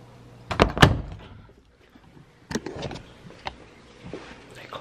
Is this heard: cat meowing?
no